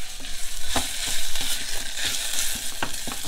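Onions fry in a pot during stirring: a loud continuous sizzle with scraping utensil strokes and clattery bumps against the pot, close up and without speech.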